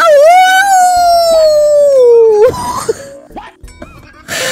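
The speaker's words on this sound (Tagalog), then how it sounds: "kumahol na naman ang aso" A single drawn-out dog howl rises and slowly falls for a couple of seconds, loud and close, followed by short scattered noises.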